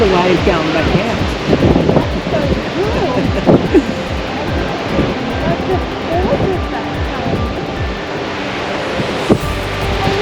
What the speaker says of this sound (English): look at the waves going back out